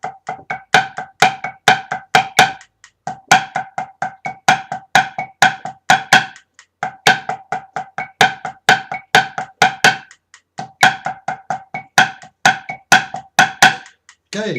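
Pipe band snare drum playing a fast rudimental run, crisp rolls and taps repeated in phrases with brief gaps, strokes ending in louder accented hits; close, dry and loud with no talk.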